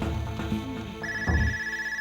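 A telephone rings indoors in a domestic scene, a loud electronic ringtone with a steady high tone over a background music bed, repeating through the short span with no talk.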